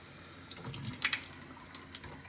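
Water runs and splashes over a 2005 Subaru Forester headlight during a leak check, a steady close spatter with a few louder splashes.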